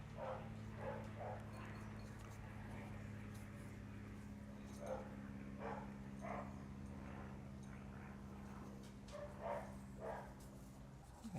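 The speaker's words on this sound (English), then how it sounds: "My neighbor's dog can bark quite a bit, so he's getting warmed up." A neighbor's dog barks in short, distant bursts that come and go over a steady low hum, faint and spread across the whole stretch.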